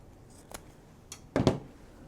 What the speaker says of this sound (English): So I'm just cutting the ribbon on a fold.